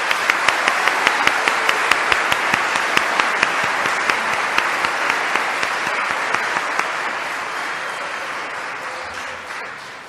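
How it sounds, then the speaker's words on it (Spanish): Loud, sustained applause from a church congregation, with a few distinct sharper claps standing out before the clapping gradually fades. "así que un fuerte aplauso."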